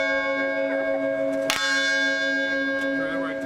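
A historic church bell cast by Paul Revere's foundry rings loudly and nearby, one strong struck tone with a long ringing hum that fades slowly, and a second lighter stroke follows.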